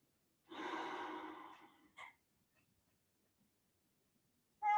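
A long, audible exhale during a hip stretch in a postnatal pelvic floor workout, close and breathy, followed by a short second breath and another breath sound at the end, with near silence between.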